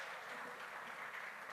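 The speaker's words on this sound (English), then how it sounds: "Can we have a huge round of applause to welcome her?" A literary festival audience in Bangalore gives a guest a soft, steady wash of applause, faint and continuous for a moment, with no voices over it.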